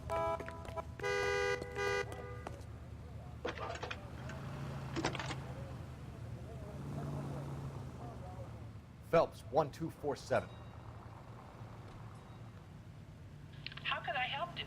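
Telephone use from the L.A. Noire video game: a burst of electronic dialing and ringing tones, then someone speaks into the line, followed by clicks and clunks as the handset is handled, over low ambient hum.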